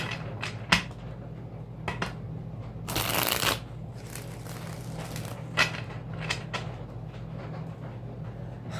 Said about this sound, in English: We're going to shuffle this 3 times,